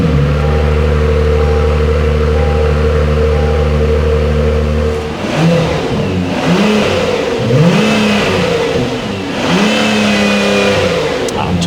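A Honda NSX race car engine holds a loud steady idle, then is blipped through a series of sharp revs that rise and fall, close and dominant.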